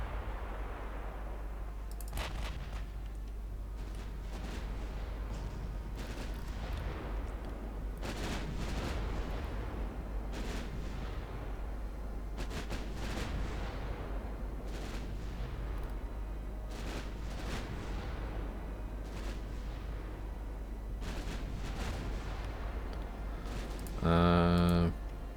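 Distant, muffled booms of battleship artillery in the naval game Ultimate Admiral Dreadnoughts, repeated salvos rolling at irregular intervals over a low constant engine hum, ending with a short tonal chime.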